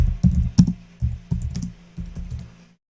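Keystrokes on a computer keyboard as a trading indicator name is entered, heard as a handful of close, fairly loud taps in short irregular bursts with no talk.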